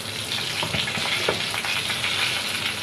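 Nigella seeds, a bay leaf and a pinch of sugar are dropped into hot oil for koi fish curry, giving a dense, loud, continuous crackling sizzle with a few brief spatters, close by and with no talking.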